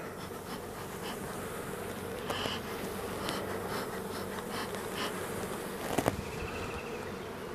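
A large honeybee colony buzzes steadily in an open hive, a dense continuous drone heard up close, with a few faint clicks and knocks from handling.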